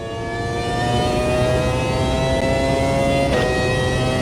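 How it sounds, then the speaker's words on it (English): A Formula 1 car engine at Spa in a simulator game revs hard and steadily, a loud, continuous high-pitched whine climbing in pitch with a brief gear-shift dip near the end. "the car, how wonderful it is. Just revving and revving and revving."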